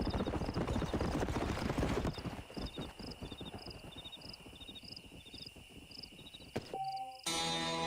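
Stallion's hooves clip-clop at a steady walking rhythm in Red Dead Redemption, moderately close, over a constant bed of crickets and night insects, ending with a short burst of other game sounds.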